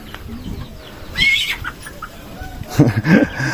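Chickens cluck and a rooster calls amid outdoor farmyard noise, with a louder burst of bird calls near the end.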